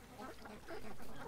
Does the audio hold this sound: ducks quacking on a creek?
yes